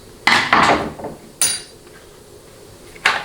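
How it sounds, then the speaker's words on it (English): A screwdriver pries a spacer out of a 4L60E transmission, giving a few sharp metallic knocks and scrapes, loud and close, with quiet pauses between them and no talk. "remove your spacer with a screwdriver"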